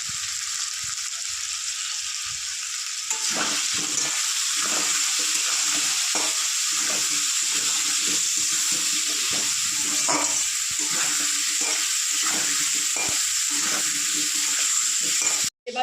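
Ginger, garlic and tomato paste frying in a pan for a fish roe dish, a steady hiss starting quietly then becoming a fuller sizzle with soft stirring scrapes throughout, no voices.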